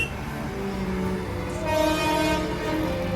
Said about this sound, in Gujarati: ટ્રેન નીકળી ગઈ બાજુમાંથી